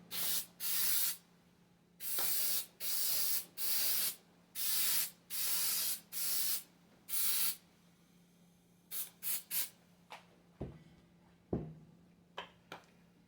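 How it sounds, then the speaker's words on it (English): A cooking spray can hisses onto a baking pan in a series of short, even bursts, about eight in steady rhythm, then a few quicker puffs and light clatter, close by. "So we're going to be using that to spray the pan down."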